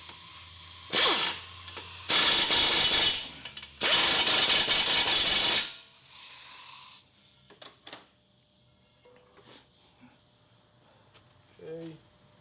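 Impact gun tightening a bolt on a 2002-06 Toyota Camry during lower control arm replacement, three loud rattling bursts close by, then quieter handling noises and a faint voice.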